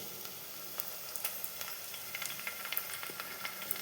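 Onions with mint frying for a village-style chicken curry give a faint, steady sizzle scattered with small crackles and pops.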